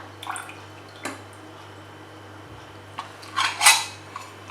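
Manual press hand juicer squeezing fruit, a few scattered metallic clicks and clunks of the lever and bowl, then a louder squelching squeeze with dripping juice near the end, close and otherwise quiet.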